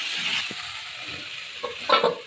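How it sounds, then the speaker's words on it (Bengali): Mixed vegetables for Bengali milk sukto fry under a lid in a pan, giving a steady soft sizzle with a few brief stirring clinks and scrapes near the end. "এবার এই সবজিগুলোকে ঢাকা দিয়ে দিয়ে ভেজে নেব"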